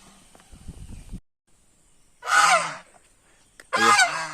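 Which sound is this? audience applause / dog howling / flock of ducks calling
flock of ducks calling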